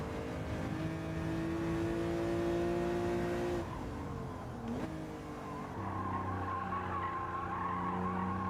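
Tires squeal in a long skid under a racing car's steady engine drone in Gran Turismo 7, followed by the engine revving back up, loud and close with no talking.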